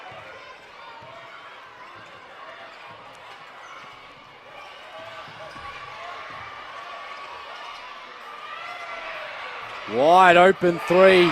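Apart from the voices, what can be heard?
basketball arena crowd at Townsville Entertainment Centre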